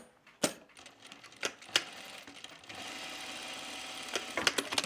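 A sewing machine stitches the center front seam of a garment facing, a steady, fairly quiet mechanical whir that picks up into continuous running, with a few sharp clicks near the start and no talk.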